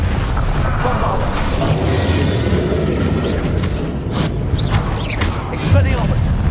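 A Bombarda blasting spell explodes amid a continuous, dense roar of combat effects in the Hogwarts Legacy video game, with a voice speaking over the loud, busy mix.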